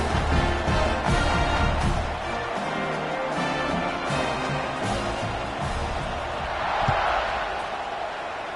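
A football stadium crowd roars before a kickoff, a loud, continuous wash of cheering and shouting that swells and eases.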